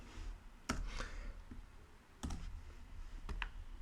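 Keys clicking on a computer keyboard in a quiet room, a few sharp separate taps with pauses between them, faint and close.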